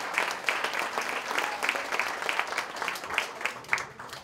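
An audience at a cabaret festival claps in a hall, a moderately quiet, steady patter of many hands with sharper individual claps popping through at irregular intervals.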